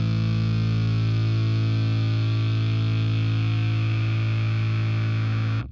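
Bass guitar played with a pick through a synth-style effect, giving a solid, buzzy synth sound: one thick, loud sustained note held for several seconds, then cut off abruptly, with no voices.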